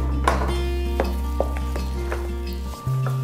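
Batter for a sweet potato cake is mixed in a bowl, with a spoon knocking against the sides in a few uneven taps over a steady low hum.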